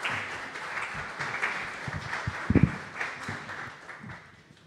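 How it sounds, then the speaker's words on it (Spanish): An audience at a lecture claps in a steady, moderately loud patter for several seconds, with a few sharper claps near the middle before it tapers off. "Pido un aplauso"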